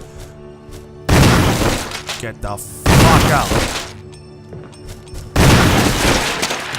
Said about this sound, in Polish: Trzy naboje z shotguna.